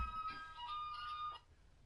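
A mobile phone rings faintly during a live PS4 game broadcast. The thin electronic tone with a repeating melody plays for over a second, then cuts off abruptly, leaving quiet background.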